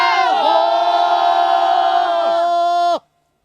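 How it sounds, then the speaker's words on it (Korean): A group raises a long unison battle cry atop Onyeo mountain fortress, the first Goguryeo capital. The single loud, sustained shout of many voices lasts about three seconds and ends abruptly in silence. "천하를 호령했던 고구려인들의 용맹함을 떠올리며 함성을 질러본다"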